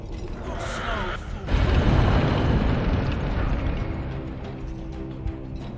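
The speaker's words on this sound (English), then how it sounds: "He's got firecrackers." Firecrackers going off in the PS2 video game Blood Omen 2: Legacy of Kain, a sudden loud burst swelling into a dense, sustained crackling roar that slowly fades over several seconds.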